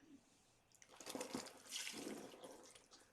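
Water is poured into a glass, a soft, close trickle that rises after a quiet start and runs for about two seconds before tapering off.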